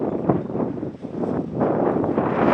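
Wind blows outdoors in Champhone district, Savannakhet, Laos, a loud continuous rushing that buffets the microphone and swells slightly toward the end.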